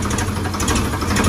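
A Ford 3600 tractor engine runs steadily up close, a loud, continuous low knocking chug with no pauses.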